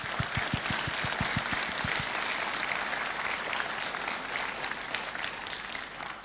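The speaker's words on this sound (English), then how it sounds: "can you all join me in giving our sponsors a huge round of applause?" A conference audience at a developer event applauds its sponsors, sustained dense clapping from a full room that carries steadily at high level throughout, with a few low thumps early on.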